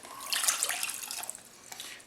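Water splashes briefly into a pot with sugar for simple syrup, a short bright pouring rush with small splashy ripples, close and fairly quiet, lasting about two seconds.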